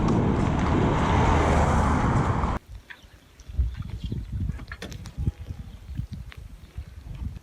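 Cars on an Irish road pass and overtake riders on horseback during a cross-country trek, a loud steady roar of passing traffic that cuts off abruptly, followed by quieter intermittent road noise and rustling.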